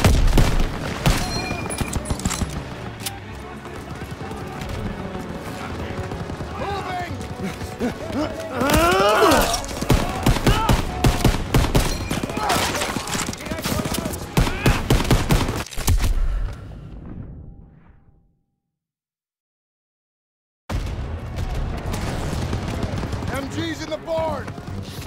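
Heavy machine gun fire and explosions in the Call of Duty WWII video game: dense, loud bursts with shouting voices over them, then a few seconds of total silence before the gunfire resumes.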